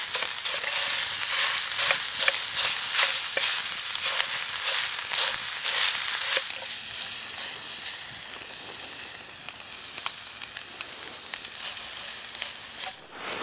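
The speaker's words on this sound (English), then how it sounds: "We'll go ahead and get this sausage cooked up." Sausage sizzling in a pan over a wood-fired G2 Firebox camp stove, a steady crackling fry with sharp pops, loudest at first and then settling into a quieter, sparser sizzle.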